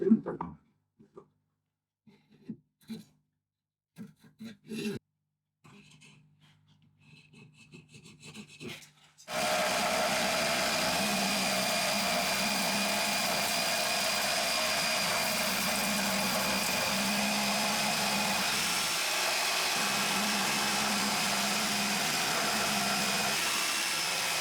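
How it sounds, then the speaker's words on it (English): A wooden boot jack is pressed against a power sander. After some quiet handling knocks, the sander starts up and runs with a steady rough whir and abrasive rasp until the end. "just clean it up on a sander, and then we'll be good"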